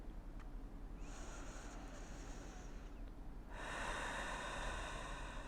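Slow, deep breaths exhaled through the mouth during a Pilates mat class, two soft airy exhales, the second longer and fuller, heard alone and close with no talking.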